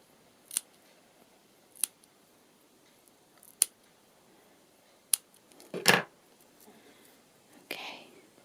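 Scissors snip paper for a collage book in a series of sharp, isolated cuts spaced a second or more apart, close and quiet, with a soft whispered voice near the end.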